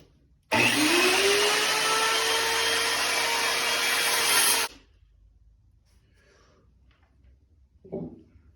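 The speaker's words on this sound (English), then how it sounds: "I think I might transition to the trusty Ryobi miter saw" Ryobi miter saw spinning up and cutting wood stock while building a box: a loud, steady whining roar for about four seconds that cuts off abruptly, followed by quiet with a faint clatter.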